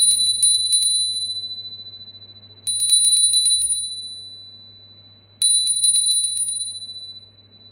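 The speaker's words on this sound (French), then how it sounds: "On va maintenant ouvrir le rituel en faisant tinter la cloche." A bell rung to open a white magic initiation ritual honouring the goddess Hecate gives three clear, bright strikes, each ringing out and slowly fading before the next, over a faint low hum.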